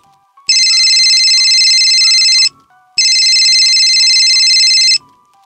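A telephone rings in two long electronic bursts separated by a short pause, loud and close, with faint background murmur and no clear talk.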